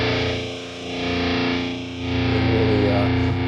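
Electric guitar played through a Headrush MX5 with overdrive and no custom impulse response, giving a thick, buzzy, saturated sustained tone that swells and dips slightly before holding steady, alone without talk.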